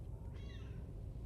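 A cat in the video game Death Stranding 2 gives a single short, soft meow over a low, quiet game ambience.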